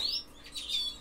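Small aviary birds give a few bright, thin chirps, close and fairly soft, with no one talking.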